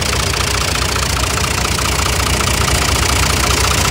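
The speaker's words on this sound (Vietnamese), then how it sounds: "Động cơ nó có 3 máy như thế này đây." A Kubota M5500DT tractor's three-cylinder diesel engine runs at a steady idle with an even knocking chug, close and loud throughout, with no voices.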